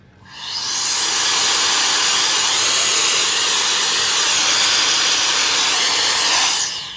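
An electric air duster from a 2-in-1 dust blower and vacuum kit with replaceable nozzles, blowing air in one loud, close, steady high-pitched whoosh that builds quickly, holds, then cuts off.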